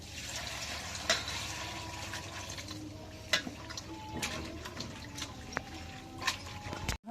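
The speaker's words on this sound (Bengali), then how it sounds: "পানি দিই," Water is poured over small chingri fish, taro stolons and potato to rinse them for a chorchori, giving soft, fairly faint splashing with scattered drips and trickles.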